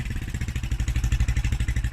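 A Suzuki GN125 motorcycle engine idling up close with the choke off, a steady, even low putter with a regular pulsing beat.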